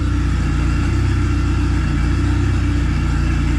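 A turbocharged D16 engine in a Honda Civic idles steadily and loud close by, a continuous low rumble with a faint hum, no pauses and no voices across the few seconds.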